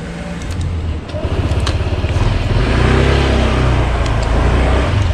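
Honda PCX scooter with ESP Plus engine starting and settling into a steady idle: a low, even, pulsing putter that grows slightly louder, close by, with no talking.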